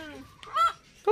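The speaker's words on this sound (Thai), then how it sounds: "ดาราหน้ากล้องจะเป็นไก่ไก่นี้สุดยอดมาก" Short throaty clucks from a chicken in a home garden, a few quick calls in a brief burst, close to the microphone.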